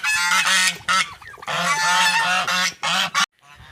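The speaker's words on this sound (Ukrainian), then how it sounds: "Ах, ці гуси крикуни. Ох, і крикуни вони." Geese honk loudly and repeatedly, a raucous flock calling close by in overlapping bursts, with no talking.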